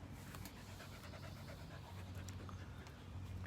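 A wet puppy pants close by in quick, steady breaths that run unbroken and fairly quiet indoors, with no talking.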